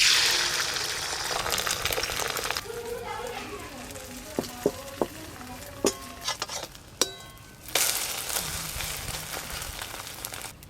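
An egg fries in oil in a pan with a loud, bright sizzle that drops to a quieter crackle punctuated by sharp utensil clinks, then surges back to full sizzle near the end.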